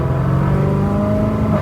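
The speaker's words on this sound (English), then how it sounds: "Let's go ahead and get some exhaust clips." Loud, close exhaust of a BMW E92 M3 with a custom double X-pipe valvetronic exhaust, a deep, rumbling revving tone held steady for a moment, no speech.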